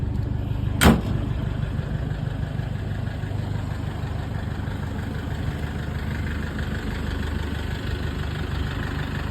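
A 2012 Toyota Vigo Champ 2.5 E pickup idles smoothly with a steady, even diesel drone, apart from one brief sharp knock near the start.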